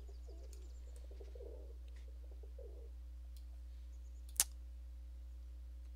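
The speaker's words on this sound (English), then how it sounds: "There's a ton of birds over here." Birds coo softly, pigeon- or dove-like, in a few short phrases near the start of a quiet Sims 4 scene, followed later by a single sharp click.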